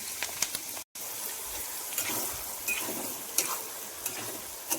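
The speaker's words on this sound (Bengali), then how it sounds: "আমি কেটে রাখা গাজর গরম তেলের মধ্যে দিয়ে ফ্রাই করে নিচ্ছি" Chopped carrots fry in hot oil for fried rice, a steady soft sizzle with light stirring scrapes, fairly quiet and alone.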